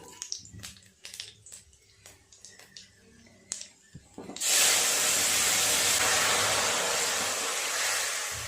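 Fish curry broth hits a hot pan with a sudden loud, sustained hiss and sizzle that stays strong to the end, after a stretch of quieter clinks and small kitchen sounds.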